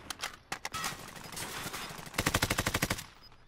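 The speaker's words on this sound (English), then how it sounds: "Where's this guy shooting at?" Rapid bursts of automatic gunfire in a battle royale video game, with a few scattered single shots followed by a long, evenly spaced volley of loud, sharp reports, close and without talk.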